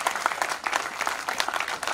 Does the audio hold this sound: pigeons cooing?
no